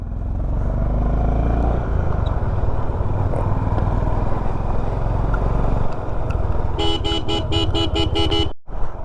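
Several motorcycles in an offroad convoy setting off from Gonbo Rangjon in Zanskar, engines revving and idling close by in a steady loud drone, followed by a rapid series of horn toots before a sudden cutoff.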